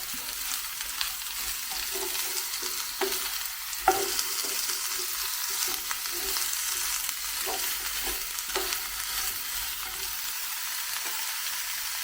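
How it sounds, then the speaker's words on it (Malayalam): Eggplant frying in oil in a pan while being stirred, a steady crackling sizzle with intermittent scraping stir strokes and a few sharper clinks, moderately close, no talking. "അപ്പം നമുക്കിനി നല്ലപോലെ ഇളക്കിയെടുക്കണം. എണ്ണയ്ക്കകത്ത് കിടന്നാൽ വഴുതനങ്ങ എല്ലാം ഒന്ന് പരന്ന് വരണം."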